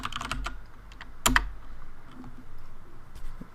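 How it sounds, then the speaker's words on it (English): A computer keyboard being typed on in a short burst of crisp, close key clicks, then a pause and a few scattered taps, as a command is entered. "Alright, so now we can just type upgrade."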